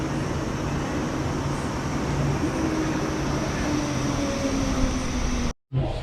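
Cable-drawn funicular railway in Zurich running on its track, a steady rumbling roll with a faint rising whine layered on top, sustained and fairly close until a sudden brief cutout near the end.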